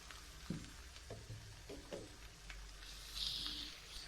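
Shrimp with Himalayan pink salt frying quietly in a pan: a soft, steady sizzle with occasional clinks from stirring, and a brief louder hiss near the end.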